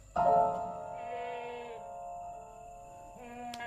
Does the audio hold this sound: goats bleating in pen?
yes